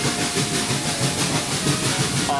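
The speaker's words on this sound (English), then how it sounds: "Don't know if you guys can hear me over the chuffing" Steam locomotive chuffing up the steep Tenterden Bank gradient on the Kent and East Sussex Railway, a steady rhythmic series of broad hissing beats with continuous rumble, close and loud throughout.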